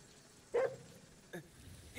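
Two short dog barks in Ghostwire: Tokyo, a louder yelp followed a moment later by a fainter second bark, set against a quiet game backdrop.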